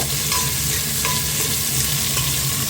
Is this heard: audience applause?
no